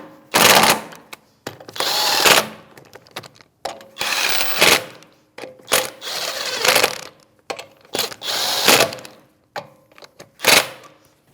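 Wheel bolts on a 2016–2025 Chevrolet Malibu are run down with a 19 mm socket, sounding as close, loud bursts of rapid ratcheting clicks separated by brief pauses.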